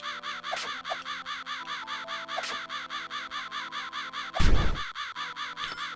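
A crow caws repeatedly in the video game Swords & Bones over a looping electronic music track, with a sharp thud partway through; the calls are clear and close.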